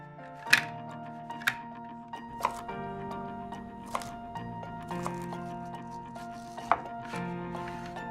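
Vegetables being chopped on a board produce a handful of distinct knife strikes spaced irregularly over several seconds. A quiet sustained musical tone runs underneath the strikes.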